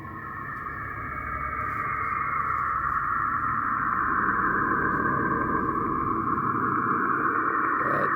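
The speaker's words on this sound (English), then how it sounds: "The sound you're about to hear was recorded by the Cassini spacecraft back in 2002. It came from the planet's magnetic field over the polar regions." Radio emissions from Saturn's magnetic field over the polar regions, recorded by the Cassini spacecraft and shifted down into audible range: a continuous eerie droning whine with a rough rumbling undertone, steady and slowly swelling.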